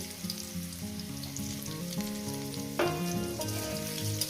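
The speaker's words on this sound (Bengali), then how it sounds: "মিনিমাম আলুটাকে আমি দু মিনিট ভেজে নেব" Potatoes frying in a pan for a spicy rohu fish curry with taro stems, a quiet, steady sizzle with a slight rise in crackle toward the end.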